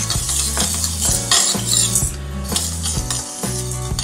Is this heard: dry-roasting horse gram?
yes